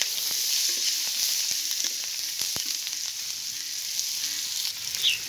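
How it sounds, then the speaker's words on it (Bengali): Onion and chilli fry in oil left over from frying fish, a steady bright sizzle that crackles evenly throughout, with a few soft clicks of stirring close by. "আমি ভেজে নিচ্ছি পেঁয়াজটা ভালো করে"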